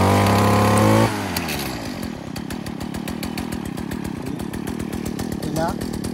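A STIHL FS70C brushcutter's small two-stroke engine fires up after a loud pull-start and settles into a rapid, buzzing idle close by, with someone talking over it.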